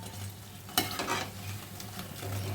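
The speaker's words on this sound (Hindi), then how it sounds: "इस तरह से उलट पलट कर मैंने फ्राई कर लिया है।" Bhalle, lentil dumplings, fry in hot oil with a soft, steady sizzle. Clattering turns and stirs come from the pan, with one sharp knock near the start.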